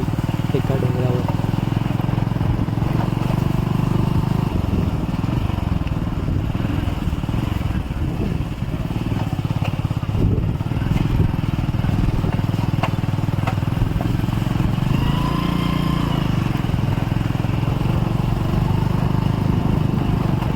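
A motorcycle rides off-road on a descent toward a hill trek, its engine droning loudly and steadily throughout with bumps and thuds from the rough ground.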